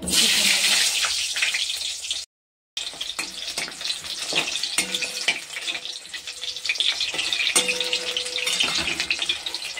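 Onions fry in oil until crisp for a chicken stew with lemon leaves, giving a constant close sizzle with small clatters throughout, briefly cut off early on.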